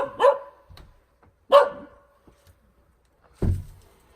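A dog gives three separate loud, close barks spaced over a few seconds, with near silence between them.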